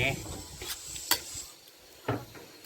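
Long beans and pork are being stir-fried with oyster sauce in a pan. A utensil gives sporadic scraping clicks against the pan over a faint, steady sizzle, close by.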